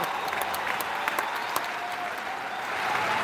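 Convention audience in a large Las Vegas hall clapping steadily, a dense wash of applause with a few sharper individual claps standing out, sustained at even loudness throughout without talk.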